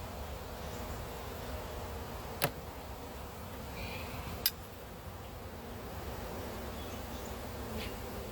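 Honey bees hum in a steady, close, low buzz around a hive as a frame is pulled during a honey harvest, broken by two sharp clicks.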